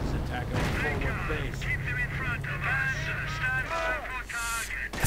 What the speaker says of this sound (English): So much artillery all of a sudden going in, light and less light artillery.